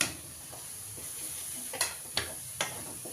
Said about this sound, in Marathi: याला चांगलं हलवून घ्यायचं.